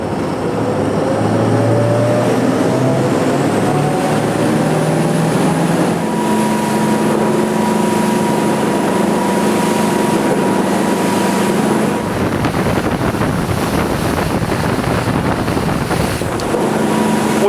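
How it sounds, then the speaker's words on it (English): A Princess V39 motor boat cruises at 25 knots, its engines producing a loud, steady drone with sustained tonal hum and constant wind and water rush throughout. "I found that this speed, 25 knots, the boat is absolutely humming"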